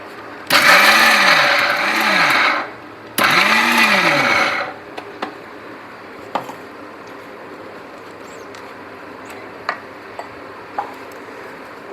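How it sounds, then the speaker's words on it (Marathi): A mixer grinder whirs loudly through two short bursts, coarsely grinding soaked dal with two green chillies, each pulse stopping abruptly; afterward scattered faint clicks and taps sound in a quiet room. "आता ही डाळ आपल्याला भरड अशी वाटून घ्यायची आहे."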